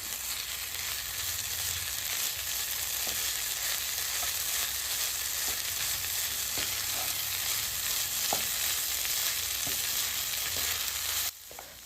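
Boiled rice is stirred in a hot pan over a low flame for coconut rice, a steady frying hiss with soft scraping taps of the spoon, ending abruptly.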